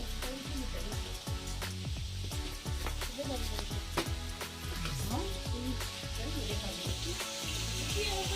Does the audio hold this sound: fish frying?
yes